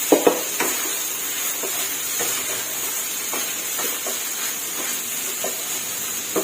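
Shrimp fried rice sizzles in a hot pan, a steady frying hiss broken by repeated scraping and stirring strokes of a spatula against the metal.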